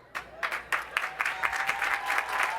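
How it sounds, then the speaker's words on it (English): Audience at a Lincoln University commencement applauding honor graduates, a burst of clapping starting suddenly and continuing dense and steady, with a thin tone beneath. "Let's give all of our honor graduates another round of applause."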